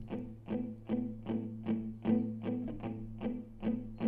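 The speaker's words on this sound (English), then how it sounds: "Cool, let's add some reverb now to this main guitar. The reverb I'm using, by the way, is just Valhalla Vintage Verb." A main guitar treated with Valhalla VintageVerb reverb plays a steady rhythm of evenly spaced strummed or picked hits, each with a short spacious tail, over a sustained low tone with no voices.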